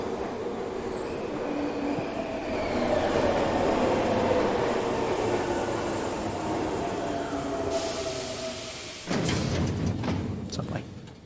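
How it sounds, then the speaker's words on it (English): A subway train in a video game rumbles and rolls along with a rising whine, then cuts to a brighter hissing, screeching section near the end, with game speech mixed in. "Subway."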